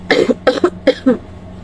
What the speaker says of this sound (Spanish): tengo unos ataques de tos horrendos